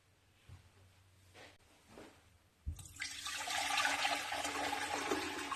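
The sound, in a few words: lemonade slowly poured through cheesecloth into glass bowl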